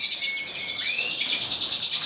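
Lesser redpoll finches in a breeding cage, several birds chirping and trilling in quick overlapping calls, high and bright, fairly close, with no talk.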